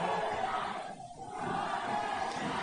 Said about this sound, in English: And the crowd really getting behind the New Zealand team here.